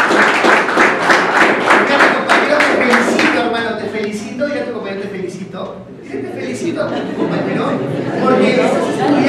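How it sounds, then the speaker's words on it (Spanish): Students at a time management class clap together in a quick, even rhythm for a few seconds, then the clapping fades and a voice carries on speaking over the room. "un fuerte aplauso para ustedes"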